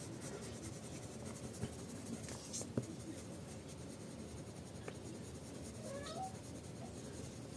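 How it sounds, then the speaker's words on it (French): A cat meows faintly once in a quiet room, a short rising call over soft scratching of a colored pencil on paper. "Le chat qui miaule."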